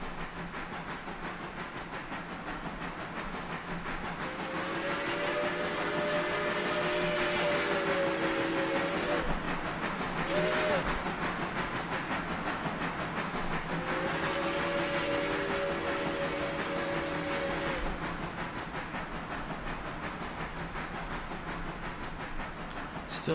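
A locomotive in the Railroader game hauls a heavy freight train of almost 1,500 tons: steady loud mechanical rumble and hiss throughout, with two long multi-tone whistle blasts sounding midway through.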